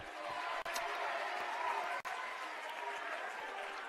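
A raucous, near-capacity crowd cheers and claps at a girls' varsity basketball game between Columbia City and Norwell at the Castle. The roar is loud and sustained, with two brief dropouts.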